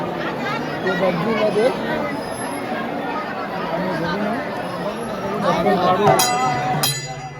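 A crowd of pilgrims at the Gangapur Datta temple, a continuous babble of many voices with occasional clinks, fairly close and steady, while someone talks nearby.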